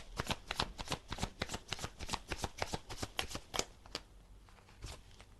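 Tarot cards being shuffled, a rapid run of crisp riffling flicks close up that thins out to a few scattered snaps near the end.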